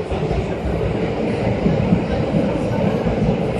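A Tokyo Metro subway train bound for Asakusa rumbles steadily along the track, a continuous low roar with faint rhythmic clatter underneath, close and fairly loud throughout.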